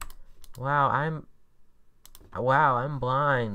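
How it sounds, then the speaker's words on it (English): Computer keyboard keys are pressed in quick, light clicks, a short burst near the start and another a little past the midpoint, around a man's close, loud exclamation. "I'm pressing all the keys on my keyboard"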